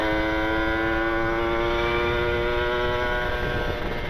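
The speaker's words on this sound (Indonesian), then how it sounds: "Kenalpotnya enak banget punya Bang Chandra." A steady, loud Kawasaki Ninja RR motorcycle exhaust drone with a constant humming tone, holding steady throughout with a slight rise near the end.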